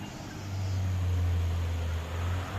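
A large, heavily loaded truck grinds up a steep bend on the Sitinjau Lauik hill road, its engine giving a steady, loud low drone that holds nearly constant from start to finish.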